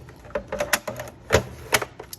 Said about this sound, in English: I'm gonna score it on 1 inch on every side.